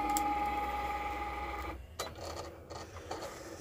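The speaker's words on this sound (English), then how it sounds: "Now when you hit this button, the Cricut will then start drawing out what we said." A Cricut cutting machine drawing an image whirs with a steady motor tone for about two seconds, then stops and gives a few clicks and short mechanical movements, close by with no talking.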